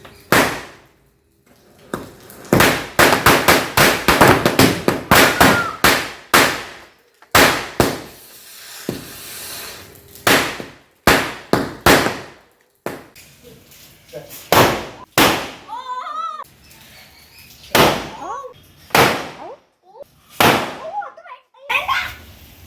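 Firecrackers burst in a rapid string of loud, sharp pops during a Vishu festival celebration at home, with several separate volleys and gaps between them, while children and adults talk and call out in between.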